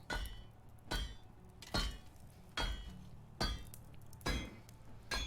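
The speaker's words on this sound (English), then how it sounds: "I'm gonna craft some hammers." Repeated metal hammer strikes on an anvil while forging hammers in the medieval game Medieval Dynasty, seven sharp ringing clangs at a steady rhythm, close and clear with no talk.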